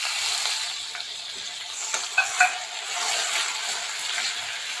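Tomatoes drop into hot oil with cumin and mustard seeds, giving a soft, steady sizzle with a few brief crackles and pops near the middle, fairly quiet and without talk.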